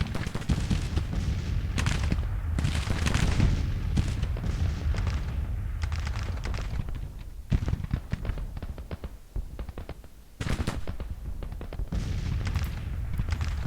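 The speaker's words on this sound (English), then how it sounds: "The captured artillery is doing a fine job hitting the enemy." Artillery and musket fire in the Civil War strategy game Grand Tactician: The Civil War, with loud booms and rolling gunfire erupting repeatedly over a dense battle din, with no talk.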